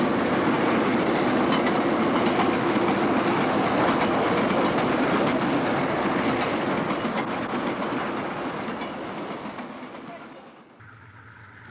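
Canadian National locomotives haul a Conrail freight train past at close range, a loud sustained rumble with clickety-clack wheel noise that gradually fades away near the end.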